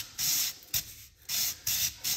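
220-grit sandpaper wrapped around a block is worked back and forth over a Ford 8N tractor part, giving four close, hissy rasping strokes in an even rhythm with brief gaps between them.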